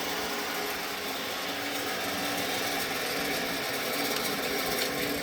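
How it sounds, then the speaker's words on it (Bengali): An electric fan in a raised-floor broiler chicken shed gives a constant whirring motor hum with a fluttering airy rush, steady and close, with no voices. "এই ফ্যানটা ছাড়লে কি হয় এটা ঘুরে ঘুরে বাতাসে যখন দেয়"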